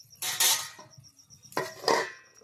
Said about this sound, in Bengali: ঢাকনা খুলে দেখে নিচ্ছি কড়াইতে কতটা জল আছে